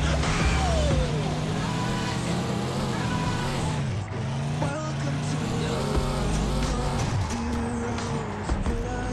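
A vehicle in a battle royale shooter drives in a steady, dense engine drone under continuous game sound and effects, loud throughout with no pauses.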